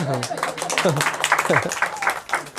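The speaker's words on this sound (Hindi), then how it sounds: "हालेलुया, ताली बजाना।" A church congregation claps steadily during a Hindi-language Friday service while voices talk and call out over it, the clapping dense and continuous beneath the speech.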